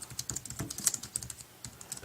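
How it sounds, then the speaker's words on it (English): Fast, uneven keystrokes clatter on an Apple iPad Keyboard Dock while a message is typed on an iPod Touch 4G. The tapping is close and crisp, with brief pauses, and no one speaks. "if we go into notes, we can type a message"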